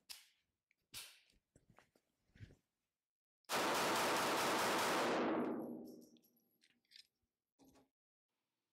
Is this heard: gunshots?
yes